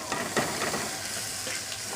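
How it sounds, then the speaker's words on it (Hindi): Chopped onion frying in a little ghee, a steady soft sizzle with light stirring scrapes, close and alone. "ये थोड़ा सा घी ले लेंगे, इसमें डालेंगे प्याज"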